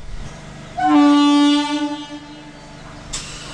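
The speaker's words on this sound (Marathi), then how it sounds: "चलो भाई ट्रेन सुटली" A MEMU local train pulls out of Mangaon station on the Konkan line, sounding one long, loud horn blast that fades over a rumbling, steady background.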